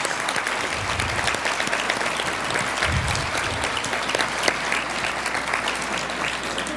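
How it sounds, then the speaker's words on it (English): Sustained audience applause fills a large hall during the 40th anniversary Bell Awards ceremony, steady dense clapping with no pauses throughout. "Take a moment, you can clap."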